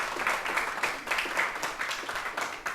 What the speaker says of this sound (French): Est-ce qu'on peut acclamer pour cela?